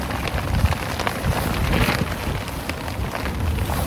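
Rain patters steadily on a tarp shelter pitched in strong wind, a dense close hiss of drops with gusty swells.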